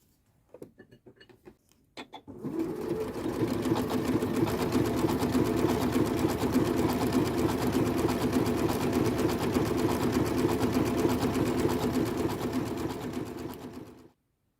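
A Janome sewing machine runs a blanket stitch between fabric layers, a steady close mechanical whir with a fast rhythmic needle patter lasting about twelve seconds after a few soft handling clicks, with no talking.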